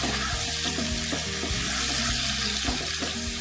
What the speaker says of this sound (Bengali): এবার এই মশলাগুলোকে ভালো করে মিশিয়ে কষে নিতে হবে।